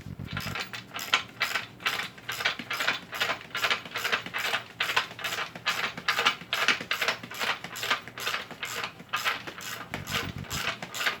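A threaded bushing on a 1955 Cadillac front suspension is worked out of its control arm and shaft, giving a close, steady run of rapid mechanical ratcheting clicks throughout.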